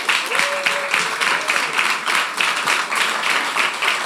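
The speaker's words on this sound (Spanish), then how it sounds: "denle un aplauso al Señor" A church congregation claps in sustained applause during a sermon, a dense steady patter of many hands with a voice briefly rising above it.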